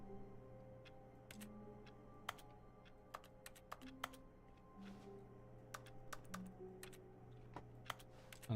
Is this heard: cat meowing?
no